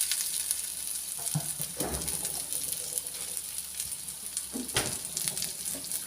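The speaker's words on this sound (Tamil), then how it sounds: "ஆட் பண்ணி நல்லா கோல்டன் ப்ரௌன் ஆகிற வரைக்கும் ஃப்ரை பண்ணுங்கள்" Sliced onions and green chilies fry in oil in a pan, giving a soft, steady sizzle with a few stirring scrapes and thumps, faint and somewhat distant, with no talking.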